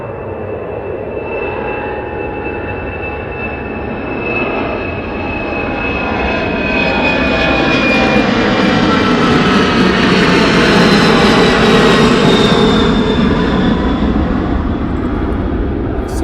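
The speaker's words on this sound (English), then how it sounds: "you could hear the MNG screaming out there" MNG cargo jet taking off at East Midlands Airport, a loud sustained engine roar and whine that swells steadily as the aircraft accelerates down the runway, heard from a distance outdoors.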